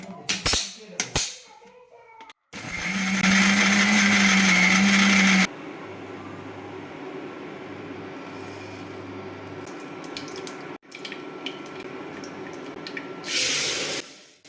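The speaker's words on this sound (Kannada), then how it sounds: "ಗಸಗಸೆ, ಎಳ್ಳು, ಮಸಾಲೆ ಪುಡಿ, ಚಿಲ್ಲಿ ಪೌಡರ್ ಹಾಕ್ಕೊಂಡು ರುಬ್ಕೊಂಡ್ರೆ ಬೇಕಾಗಿರೋಂತಹ ಮಸಾಲೆ ರೆಡಿ ಆಗುತ್ತೆ" A kitchen mixer grinder runs loud and steady for about three seconds, grinding poppy seeds, sesame, coconut, chilli powder and spices into a masala paste. Quieter kitchen noises come before and after it.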